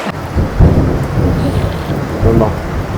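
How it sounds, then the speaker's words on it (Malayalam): Heavy rain hisses steadily while low thunder rumbles and booms in bursts, loud and close, with no talking. "നല്ല ഇടി വെട്ടി മഴ പെയ്തോണ്ടിരിക്കണം"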